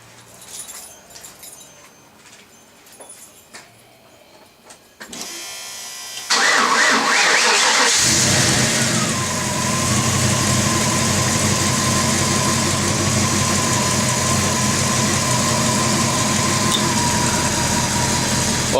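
A Range Rover P38 converted to a Ford V8 with a single 2½ inch side-exit exhaust and muffler cranks over and catches. It settles into a loud, steady, close idle with a faint jingle of keys beforehand.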